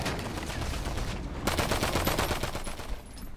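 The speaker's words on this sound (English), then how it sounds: "I'm gonna use my gun then." GTA 5 deathmatch gunfire in a Grove Street gang fight: rapid, dense bursts of automatic shots rattle on almost continuously, getting louder and sharper halfway through, with no talk.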